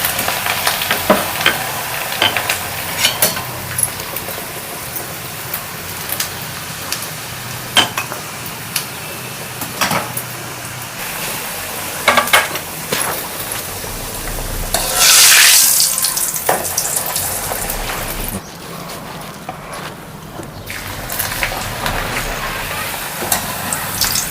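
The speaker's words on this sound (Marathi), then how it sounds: "दोन्ही साईडने चांगलं तळून घ्यायचं त्याला" Food fries in hot oil in a pan with a continuous loud sizzle and crackle, broken by stirring and scraping, and a brief hiss burst in the middle, all close up.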